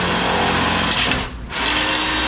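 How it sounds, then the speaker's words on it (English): A power drill whines loudly and steadily while drilling holes in the metal of a Honda CRX, dipping briefly mid-way before revving back up, close by and continuous. "right there is where I'm going to drill holes to bolt this"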